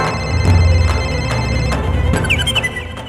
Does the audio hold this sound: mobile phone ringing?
yes